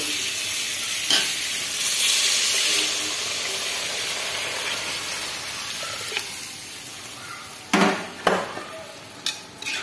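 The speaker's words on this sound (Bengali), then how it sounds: "এখন ঝোলের জন্য জল দিয়ে দেব।" Water poured over fried potatoes in a pan for hilsa fish curry, raising a loud, steady broadband sizzle and hiss, with a few sharp stirring knocks near the end and no talking.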